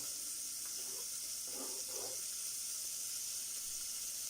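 Steady broadband sizzling hiss of onion frying in oil in a pot, continuous and fairly quiet, with a few soft clatters early on.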